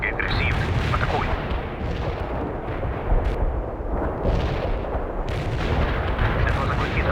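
An artillery barrage pounds in the World in Conflict war game, a continuous rumble of heavy booming impacts and blasts overlapping one another, loud and sustained, with radio voices in the mix.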